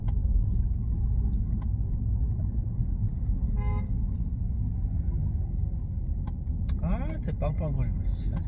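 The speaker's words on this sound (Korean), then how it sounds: "진짜 빵빵거리고 진짜." Car horns honk in road traffic: one short beep, then a cluster of several overlapping honks near the end, all over a steady low rumble of passing vehicles.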